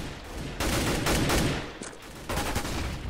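Gunfire in Counter-Strike on the de_mirage map during a competitive match. Loud, close bursts of rapid automatic shots pile up in dense volleys, with a brief lull before another burst near the end, and no voices.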